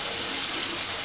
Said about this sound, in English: So next, turn on the cool water.